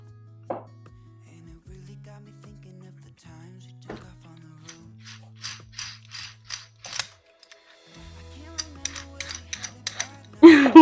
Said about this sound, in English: it keeps coming out and then it's not letting me screw it out